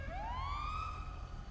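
A police car siren in the GTA 5 video game sweeps upward in a single rising wail and holds high, steady and fairly prominent over a low engine rumble, with no voices.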